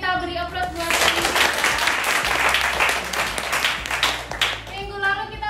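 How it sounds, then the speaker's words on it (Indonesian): A classroom of students gives a burst of applause for a classmate, dense steady clapping that fades near the end as a teacher's voice returns. "Kita beri aplaus buat ini."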